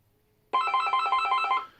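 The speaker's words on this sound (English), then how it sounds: "which rings, you hear it ringing in the background" A telephone rings through the handset of a West German M21 payphone: a sudden, fairly loud electronic warble of rapid repeated pulses lasting over a second, with no talk.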